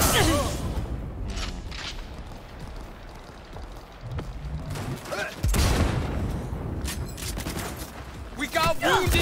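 Gunfire in Cyberpunk 2077 comes as scattered bursts and booming shots, loud and close, mixed with other game sounds and voices talking over it.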